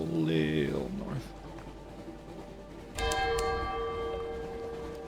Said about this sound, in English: That's what the bell means.